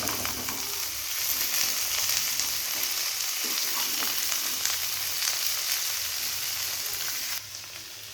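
Shredded cabbage frying in a hot pan after onions have browned, a steady dense sizzle close up with faint scraping and stirring throughout, continuous and fairly loud, with no talking.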